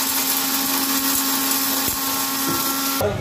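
A mixer grinder whirs steadily as it grinds roasted spices into powder, a loud continuous motor whine that cuts off abruptly near the end.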